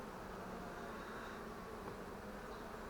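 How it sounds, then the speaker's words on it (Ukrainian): Honey bees from a newly captured swarm crowd the frames of a small five-frame nucleus box, giving a faint, steady, continuous buzzing hum with no talk. "рамки забиті бджолами"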